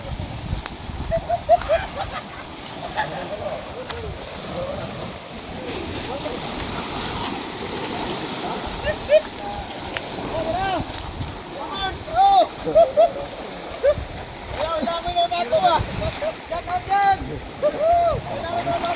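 Rough sea waves off the coast of Masbate province in the Philippines wash and splash in a steady broadband roar, with occasional louder surges, while people talk nearby throughout.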